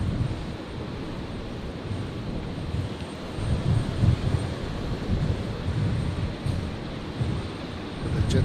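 A Jetstar Airbus A320 airliner lands at Brisbane airport: a low, steady, distant engine rumble that swells slightly midway, with some wind noise and no voices.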